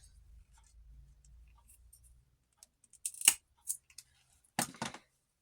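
A few sharp snips from small cutters close by, spaced apart in a quiet room after a faint low hum fades.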